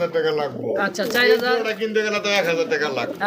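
Pigeons coo close by in low, throaty bursts, mixed with a person talking over them.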